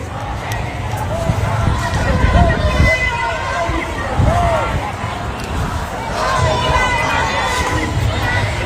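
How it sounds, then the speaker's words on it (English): A large crowd of Iranian counter-protesters waving flags in Washington D.C., a loud dense roar of shouting and cheering voices with chanting rising and falling throughout, close and continuous. "here goes the counter protest that I was talking about with the Iranian flags"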